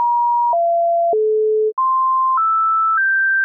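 Sampled musical notes rendered digitally as pure tones, the last three aliased to wrong frequencies above the sampling limit; a sequence of six clean, loud sustained beeps stepping down then up in pitch, each about half a second.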